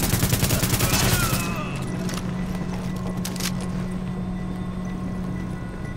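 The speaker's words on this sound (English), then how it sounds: "that's a shotgun" Shotgun blasts in the video game The Division, a dense burst of loud shots in the opening second and a half, then a few fainter scattered reports over a steady low hum.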